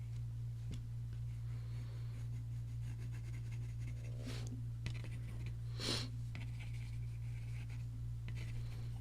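Colored pencil drawing on paper, a faint close scratchy scraping of lead across the sheet in light intermittent strokes over a low steady hum, with no talk.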